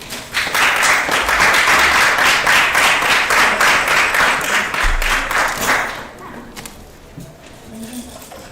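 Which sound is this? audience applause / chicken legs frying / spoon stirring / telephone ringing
audience applause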